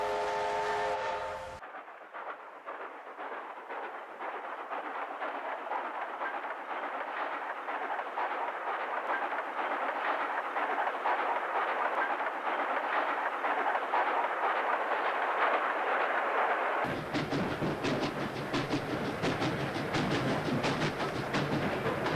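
A steam train rumbles steadily along the rails with a continuous rolling clatter, which grows brighter and harsher near the end as the noise shifts closer.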